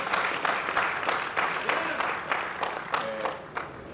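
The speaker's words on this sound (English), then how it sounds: "Let's give the president a big round of applause" Continuous applause from a crowd for South Africa's president at a Ford event, dense clapping with rhythmic peaks, moderately loud and steady throughout.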